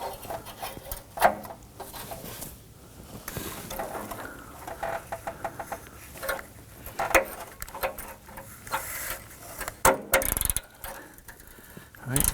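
A ratchet wrench clicks in uneven bursts while a replacement upstream oxygen sensor with a crush washer is snugged into the exhaust manifold of a 2018-2024 Toyota Camry, close and moderately loud with mechanical clatter.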